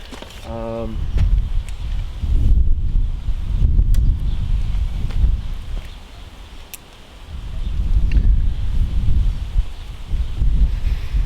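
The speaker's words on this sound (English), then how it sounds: "Now there is a little bit of wind around." Gusty outdoor wind buffets the microphone during compound bow shooting, in low rumbling surges swelling and easing over several seconds, with faint rustling and a brief mechanical whir near the start.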